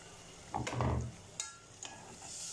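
Vermicelli browning in a little onion-flavoured oil for Egyptian koshari, with a burst of sizzling and stirring that rises and fades, followed by a few brief utensil scrapes against the pan.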